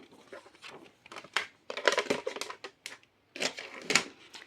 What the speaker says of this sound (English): So now all of these score lines I'm going to cut.